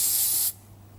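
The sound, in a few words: cooling spray being sprayed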